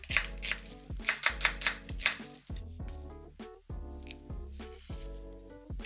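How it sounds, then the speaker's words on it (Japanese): A kitchen knife slices an onion into 5 mm strips on a cutting board, with a quick run of crisp, close cuts at the start and fainter cuts later under steady background music. "玉ねぎも5ミリ幅くらいに切って、"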